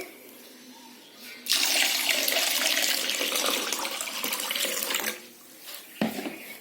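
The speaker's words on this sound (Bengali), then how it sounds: "এবার আমি এতে জল দিয়ে দেবো।" Water pours into a pot of washed lentils for a Bengali sour dal, a close, steady splashing gush lasting a few seconds before stopping, followed by a brief clink.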